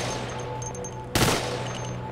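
A single loud gunshot from Arma 2 gameplay cuts sharply through a steady low engine-like hum, brief and close, with faint background noise before and after.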